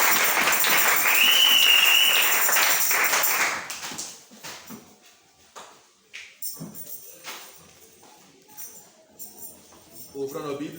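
A church congregation applauds loudly for about three seconds, then the clapping breaks off into scattered claps and taps while a voice speaks.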